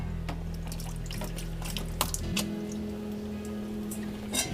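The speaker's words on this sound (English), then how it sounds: "Just get a bit of fresh water." Fresh water running from a tap into a shaving bowl, a steady splashing flow with a low hum that shifts midway, plus scattered drips and clinks, close and with no talking.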